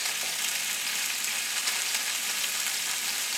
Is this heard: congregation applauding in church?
no